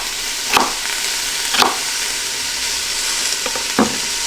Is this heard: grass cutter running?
no